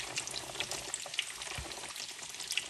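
Doritos-crusted chicken tenders frying in a pan, a steady close sizzle with scattered crackles and pops throughout, no voices.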